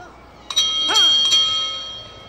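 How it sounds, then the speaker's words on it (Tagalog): A boxing ring bell rings to end the first round, two or three quick bright metallic strikes that ring on with a sustained tone, with a commentator's voice faintly beneath. "at the sound of the bell"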